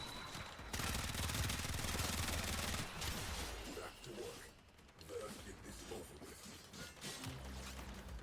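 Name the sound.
rifle gunfire in the video game Warframe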